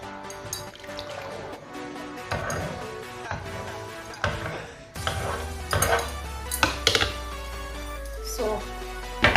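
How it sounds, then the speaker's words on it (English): Spoon stirring Nigerian ayamase (burka) stew in a pot, with scattered clinks and scrapes against the metal and some liquid sloshing, fairly close, mixed with occasional faint background voice. "Give it a good stir."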